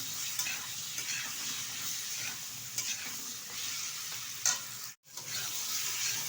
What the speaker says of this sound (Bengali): এক থেকে দেড় মিনিট মতো সিমার আলুটা আমি তেলের সাথে নেড়ে চেড়ে নিলাম